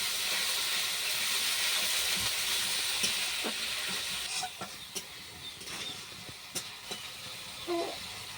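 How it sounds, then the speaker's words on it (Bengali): Spice masala with a little sugar, salt and turmeric frying in oil, a steady loud sizzling hiss with occasional scrapes and taps of a stirring spoon, close up. "অল্প একটু চিনি দিয়ে আমি ভালো করে কষিয়ে নেব মশলাটা"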